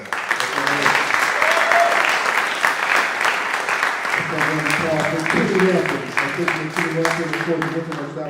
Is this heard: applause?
yes